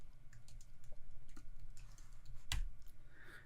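Command G pressed on a computer keyboard: a few soft, quiet key clicks followed by one sharper, louder tap, all close and alone with no talking.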